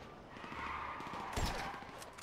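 Gunfire in GTA V, a burst of shots over a dense game soundscape, one louder crack standing out midway, moderately close and not very loud.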